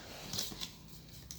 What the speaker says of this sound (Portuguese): a gente vai recortar com a tesoura de picotar